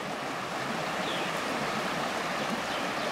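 Stream water rushing along a hiking trail at a recluse stream, a steady broadband roar of flowing water, loud and close, continuous throughout without talk.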